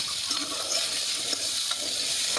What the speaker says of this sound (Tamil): ஒரு அரை கிலோ சின்ன வெங்காயத்தை சேர்த்துக்கலாங்க இது கூட ஒரு மூணு தக்காளி ஒரு பத்து பல் பூண்டு இஞ்சி துண்டு போட்டு நல்லா வதக்கி விட்டுடலாங்க